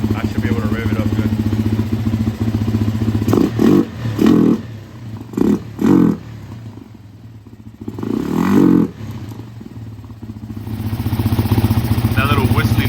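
Engine of an abandoned Suzuki ATV idling with a steady rumble, then blipped several times in short revs and one longer rev before settling back to idle, loud and close.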